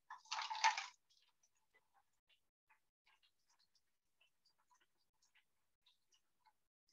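Water poured to fill a lab water bath for a teaching experiment: a short splashing pour lasting under a second, then quiet scattered drips and small ticks trailing off.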